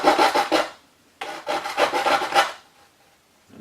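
A blade scoring the wooden rim of a guitar kit body before binding is routed, two short bursts of dry scratchy rubbing strokes, close and crisp with a pause between them.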